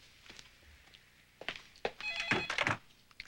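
Telephone ringing in a home, a bright trilling bell that comes in brief bursts after a few thuds and rustles, fairly close and alone without talk.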